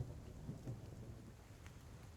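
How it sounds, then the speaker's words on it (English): Soft rain and low rolling thunder ambience from a tabletop role-playing session, a faint steady wash with a gentle rumble underneath and no voices. "we have wind, we have the rain, we have rolling thunder"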